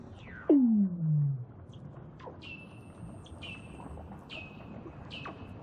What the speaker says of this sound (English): They're actually the calls of Weddell seals.